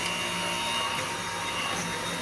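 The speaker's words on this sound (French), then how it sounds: "mon cher mari est en train de passer l'aspirateur dehors" A vacuum cleaner runs outdoors on a terrace, a steady, loud, unbroken whooshing drone with no pauses.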